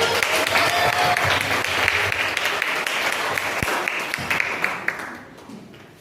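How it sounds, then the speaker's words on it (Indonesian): Students in a classroom legal-awareness session clap together, a lively round of applause that stays strong for several seconds, then thins and fades out toward the end. "Tepuk tangan, tepuk tangan."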